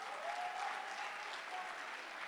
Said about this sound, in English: give a round of applause to everyone who was on stage